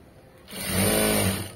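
A sewing machine stitches cloth in a short whirring burst that quickly ramps up, holds for about a second, then eases off. No one talks over it.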